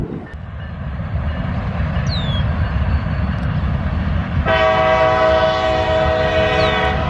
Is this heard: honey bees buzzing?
no